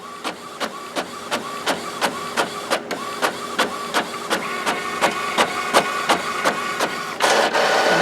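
An Epson WF inkjet printer making a copy, its carriage shuttling back and forth in a steady run of regular clicks and whirs for several seconds before a louder final mechanical sweep.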